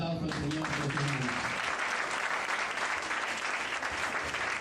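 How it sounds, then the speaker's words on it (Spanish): A church congregation applauds steadily and loudly throughout, a dense wash of clapping that rises right after a brief spoken phrase at the start. "Le damos un aplauso al Señor por los hermanos."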